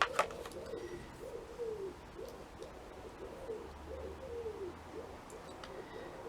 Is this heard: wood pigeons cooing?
yes